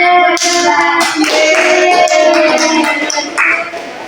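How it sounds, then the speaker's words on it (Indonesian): A class of young pupils applauds together for a few seconds, with bright overlapping claps and excited children's voices mixed in before it tapers off. "Beri tepuk tangan buat semuanya."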